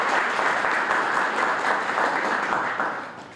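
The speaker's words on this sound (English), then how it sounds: "Let's give her a round of applause." Audience applause for a City of Boston representative at an evening immigrant community event, steady dense clapping from a large crowd throughout, tapering slightly at the end.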